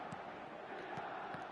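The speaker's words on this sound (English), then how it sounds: "the crowd are reacting to that now" A stadium crowd roars and murmurs in the football video game eFootball, a steady broad wash with a few brief swells.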